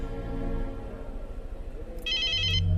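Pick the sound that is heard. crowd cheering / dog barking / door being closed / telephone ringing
telephone ringing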